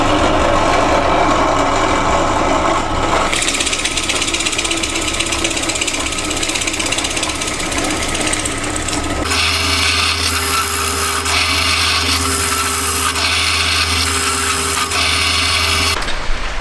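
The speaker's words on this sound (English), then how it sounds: "I'll just drill the holes, move it along, drill them" Pillar drill boring holes through wooden cross beams for a model railway baseboard frame, a loud continuous motor whine and grinding cut that shifts pitch partway through as the wood is moved along, with no talk.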